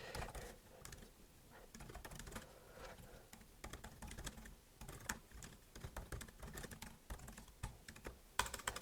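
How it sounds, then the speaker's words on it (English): Fast typing on a computer keyboard, a rapid, irregular patter of quiet, close keystrokes with short pauses between bursts, with no one talking. "I'm making typos all the time because of fast typing"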